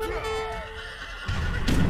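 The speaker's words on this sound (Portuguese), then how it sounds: "Um cavalo." A horse neighs in the video game Age of Empires 3, a clear drawn-out whinny followed by the noisy rumble of in-game battle sounds.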